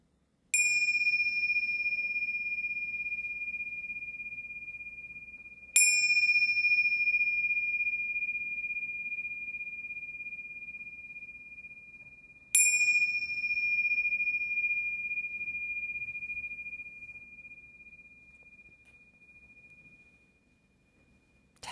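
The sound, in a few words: meditation bell struck three times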